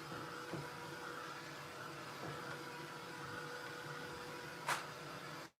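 A heat tool blows steadily while drying a layer of spray ink in an art journal, producing a faint, even whirring hum with a brief sharp tap near the end.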